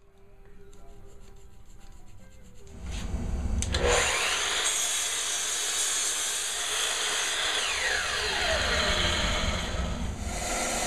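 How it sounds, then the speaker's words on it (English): A saw cuts through a walnut blank, starting after a brief lead-in and then running as a loud, steady rasping drone for the rest of the clip, close up with no talking. "The first step is to measure and then cut my blank."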